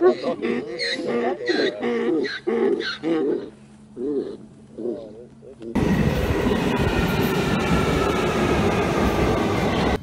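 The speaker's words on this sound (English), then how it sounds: "this is a Victoria Line train to Brixton." A voice speaks at first, then a loud London Underground Victoria Line train takes over with a steady roaring rumble and rattle.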